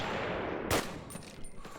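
A single sharp sniper rifle crack rings out in a Call of Duty: United Offensive match, loud and close over steady background hiss, followed by fainter distant game sounds.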